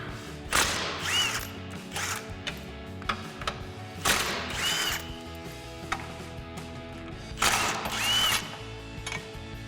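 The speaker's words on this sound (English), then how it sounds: "We've got 3 15mm bolts, so I've got a 15mm socket to pop these out" A 15mm socket on a ratchet or impact tool backs bolts out of a truck frame rail's end plates: three separate bursts of mechanical whirring with ratcheting clicks between them, close and loud, with no talking.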